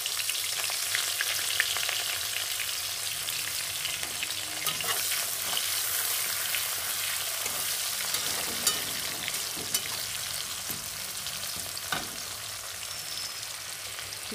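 Sliced onions and black cumin seeds fry in hot oil, giving a steady, dense crackling sizzle throughout with a few sharper pops and scrapes of stirring, close and unbroken by speech.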